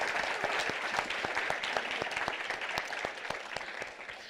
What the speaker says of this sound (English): Please give a hand of applause for our panelists